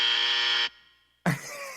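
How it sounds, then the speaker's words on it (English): A game show buzzer blares once, a harsh, loud, flat tone lasting just over half a second and then cut off, followed by a short silence before noise and a voice come in. "you're going to hear a buzzer that sounds like this"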